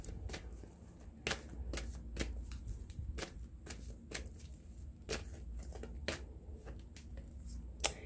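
A deck of tarot cards being shuffled close up, with a continuous riffling rustle broken by sharp, evenly spaced card snaps over several seconds and no speech.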